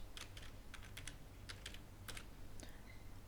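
Someone types a first name into an online form on a computer keyboard: quiet, irregular clusters of key clicks over a low background hum, with no voice.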